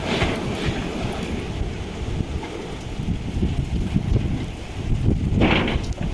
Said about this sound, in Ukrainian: Оце ураган.